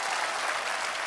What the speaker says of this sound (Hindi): my brother Kapil Sharma के लिए जोरदार तालियां.